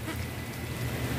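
Steady rain falling in Riyadh, Saudi Arabia, a dense even hiss of drops on surfaces, close and continuous with no talk.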